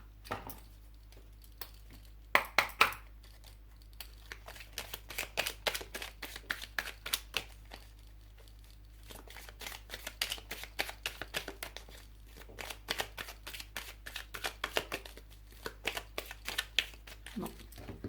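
Tarot cards being shuffled by hand, a run of quick papery riffles and soft flicks that come in uneven bursts, close and moderately quiet against a low steady hum.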